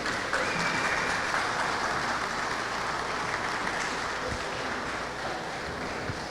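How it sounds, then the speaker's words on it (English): Audience clapping for a handball champion at a pro men's final tournament, a steady wash of applause sustained throughout. "So I want to hear you guys clap for him."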